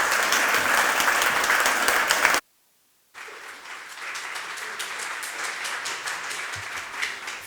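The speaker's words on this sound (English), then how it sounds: "lead us in a rousing, an invigorating, an exhausting round of applause" Loud, enthusiastic applause from a conference audience after keynote addresses, breaking off briefly into silence before resuming as steady clapping.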